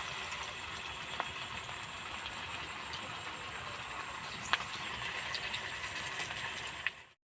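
Chops made from grated raw potato and leftover rice fry in hot oil with a steady, faint, broadband hiss and a few small crackling pops.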